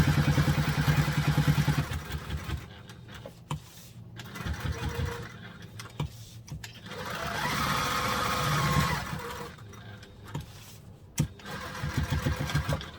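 A sewing machine stitches a reusable fold-and-store duffle bag, running in several close bursts with short pauses between them.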